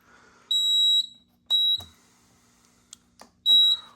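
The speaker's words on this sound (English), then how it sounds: "Went into alarm pretty fast, actually." Fire alarm panel piezo sounding after a smoke detector test on a Kidde FX-5R panel: three loud, high, steady beeps of about half a second each, with faint clicks between them and no speech.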